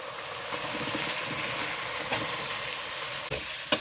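Fried potato and raw jackfruit being sautéed in cooked-down spices for a vegetarian curry: a steady, close hiss of frying runs throughout, with occasional soft stirring scrapes and a sharp clink near the end.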